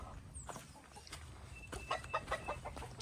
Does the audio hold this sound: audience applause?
no